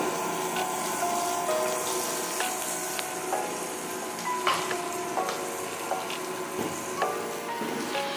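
Ginger garlic paste fries in a pan for a pork dish, giving a loud, steady sizzle with small crackles and pops throughout and no voices.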